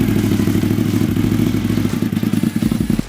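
A Suzuki TL1000S motorcycle engine running close by, a loud, rapid, throbbing pulse with clattering mechanical texture that grows choppier toward the end.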